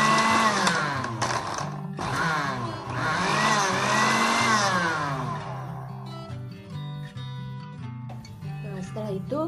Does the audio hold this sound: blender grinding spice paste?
yes